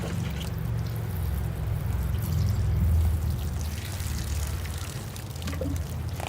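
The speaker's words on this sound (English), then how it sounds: "I better water this and the moss and start applying it." Water poured steadily over a bonsai and its fine moss, a continuous close trickle and splash lasting the whole stretch with no talking.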